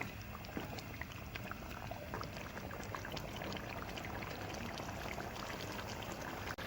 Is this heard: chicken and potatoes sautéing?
yes